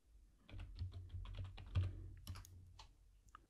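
Quick bursts of keystrokes on a computer keyboard while entering a username and password to log in, close and fairly quiet, an uneven run of clicks with short pauses, no voices.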